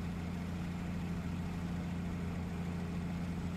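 A car engine fitted with a replacement exhaust pipe idles steadily with a low, even rumble, faint and unchanging throughout, with no voices.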